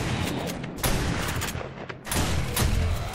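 Rapid gunfire in the survival video game 7 Days to Die on hardest difficulty during a blood moon night, a dense burst of loud shots with a short lull before another volley, no talk.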